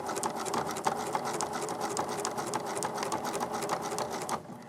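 A sewing machine stitches appliqué onto fur in a fast, even, rattling run of needle strokes at moderate volume and close by. It stops briefly near the end, and no one speaks.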